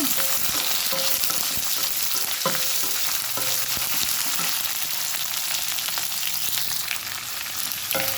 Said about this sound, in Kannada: ಈಗ ಈರುಳ್ಳಿಯನ್ನು ಹಾಕೊಂಡೆ